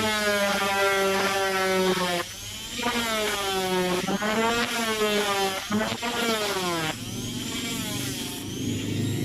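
A handheld rotary tool grinds on a plastic part, its high motor whine rising and falling in pitch as speed and load change over several seconds, loud and close with no talk.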